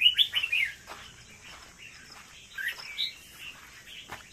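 A pet Indo bird chirps in its cage, with a bright burst of tweets at the start followed by scattered shorter calls, fairly close and moderately loud against a quiet background.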